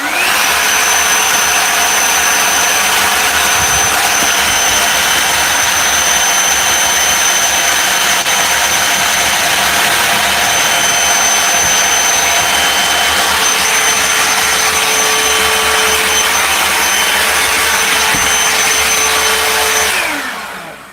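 A vacuum cleaner runs loudly and steadily with a high whine throughout, then shuts off and winds down at the end.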